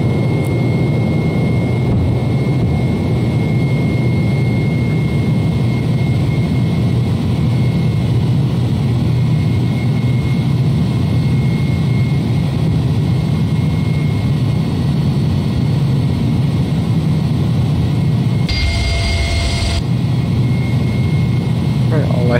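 Jet engines of an Airbus A300-600 at takeoff in X-Plane 11: a loud, steady roar with a low rumble and a faint high whine running unbroken throughout, broken only by a short burst of noise near the end.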